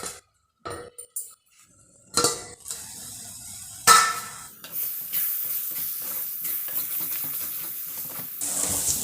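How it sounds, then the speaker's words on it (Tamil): Chili powder sizzles in hot oil while being sautéed for a village-style Tamil fish curry, with a few sharp utensil clinks against the pan, then a steady frying hiss that grows louder toward the end. "நம்ம இப்போ இந்த மிளகாப்பொடி போட்டு இதிலே வதக்கிக்கணும்."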